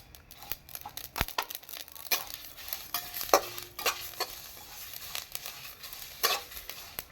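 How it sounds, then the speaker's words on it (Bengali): Dry spice mixture for raw mango pickle is stirred in a hot pan, giving soft sizzling under repeated scraping and rustling strokes, close and fairly quiet, with no talk. "মশলাটা ভাজা হয়ে গেছে"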